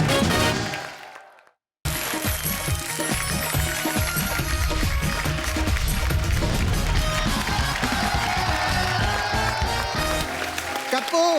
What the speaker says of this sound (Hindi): एक बार हमारे सब प्लेयर्स के लिए जोरदार तालियां